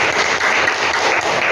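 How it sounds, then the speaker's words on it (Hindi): Applause from a classroom of students during a maths lesson, a steady dense clatter of many hands clapping close by for the whole short stretch, with no talk over it. "तालियां"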